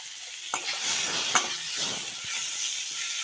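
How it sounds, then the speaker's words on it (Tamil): Tomato and pineapple pieces sauté with chillies and curry leaves in hot oil for pineapple rasam, a steady bright sizzle close up with a couple of clicks from the stirring spoon. "இது கூடவே நம்ம தக்காளி பைனாப்பிள் குட்டி குட்டியாக கட் பண்ணது எல்லாத்தையுமே இதோடு சேர்த்து வதக்கிக்கலாம்"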